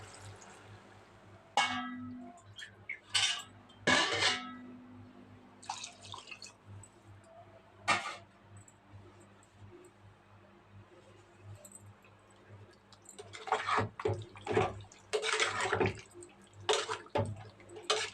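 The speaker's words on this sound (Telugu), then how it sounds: "అలాగే కొన్ని వాటర్ అయితే వేస్తాను" Water goes into a cooking pot in a few scattered splashes and drips over a quiet kitchen background, with a cluster of louder pours near the end.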